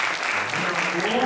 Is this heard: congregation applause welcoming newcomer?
yes